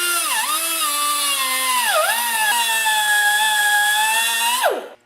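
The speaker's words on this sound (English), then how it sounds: "today I'll be using my pneumatic cutoff tool" A pneumatic cutoff tool cuts through bolts on snowblower augers with a loud, steady high-pitched whine that dips in pitch twice as the wheel bites the metal, then spins down abruptly at the end.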